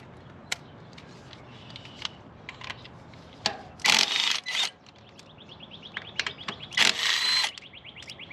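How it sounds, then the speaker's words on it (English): A 10 mm socket ratchet loosening ignition coil bolts on a 2006–2012 Toyota RAV4, rapid clicking pawl bursts alternating with scraping and louder rasping sounds of the tool turning, close up with no talk. "Now use the 10 mm socket and remove the bolt from all ignition coils."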